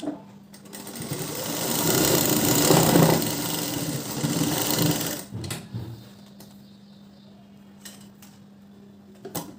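A sewing machine runs in a steady close whirring burst for several seconds while stitching a blouse, then stops, leaving faint hum and a few light clicks of handling.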